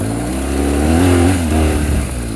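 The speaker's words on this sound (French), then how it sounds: "On accélère bien dans la montée de manière à bien plaquer la moto." A BMW GS motorcycle accelerating uphill on a riding course, a loud, close engine that rises in pitch, dips briefly and climbs again under steady throttle.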